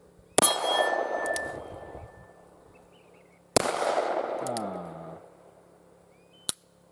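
Two sharp, loud shots from a Nagant revolver fired one-handed, each followed by a long ringing decay of about a second and a half, with a faint metallic ping near the end.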